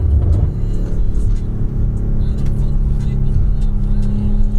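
Several club trucks rolling past, a loud, steady low engine rumble with a brief rev near the start and continuous road drone throughout, no voices.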